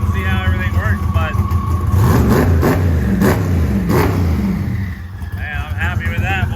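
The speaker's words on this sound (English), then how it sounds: "Now it's revving a lot better." A turbocharged drag car revs hard at the dragstrip with its boost controller off, a loud, close engine rising and falling in pitch, with a voice talking over parts of it.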